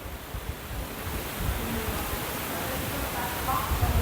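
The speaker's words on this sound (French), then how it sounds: "On a de ces rafales par moment, c'est un truc de fou." Strong wind gusts buffet the open air outdoors, a steady broad roar that swells in places and stays fairly loud throughout with no talk.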